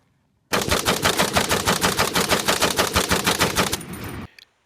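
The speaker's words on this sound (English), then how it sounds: "The Maxim MG08 became the world's first portable fully automatic machine gun system." A Maxim MG08 machine gun fires one sustained burst of rapid, evenly spaced shots, loud and close, stopping abruptly after about four seconds.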